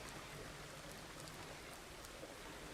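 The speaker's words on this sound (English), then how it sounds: "It's raining." Steady rain falls in the farming video game Farmers Dynasty, a faint, even hiss of drops with scattered soft patters, continuous and without speech.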